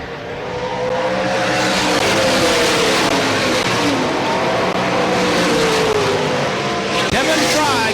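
Race cars roar off turn 4 at Selinsgrove Speedway, a loud sustained wall of engine noise with rising and falling harmonic whines as the pack passes, a commentator talking over it throughout.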